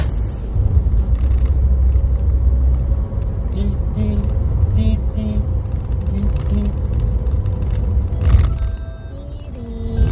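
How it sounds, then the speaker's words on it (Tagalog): Cars pass on a road at night: a continuous low traffic rumble with faint tonal engine notes, and one louder vehicle sweeping by near the end. "Marami pa ding sasakyan pala kahit ganitong oras."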